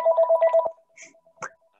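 A house phone rings in a room, giving a rapid electronic warble of five quick pulses. It cuts off as the receiver is handled, followed by a faint tone and a clunk.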